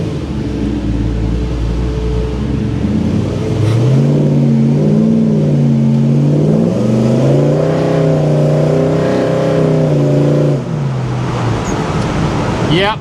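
Loud 525HP LS3 V8 in a 1971 Pontiac GTO pro touring build with a 6L80 automatic, revving and climbing through gears while driving, with a deep steady engine drone and rising, falling pitch sweeps.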